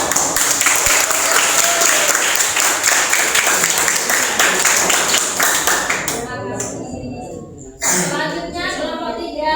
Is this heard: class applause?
yes